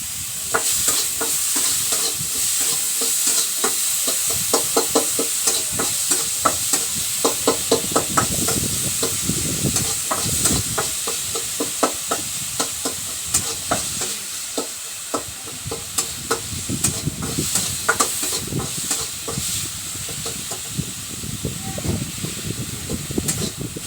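Onion and tomato fry in a hot pan for spicy eggplant bharit: a steady, loud sizzle and hiss runs throughout, broken by frequent scraping knocks of a spoon stirring against the pan.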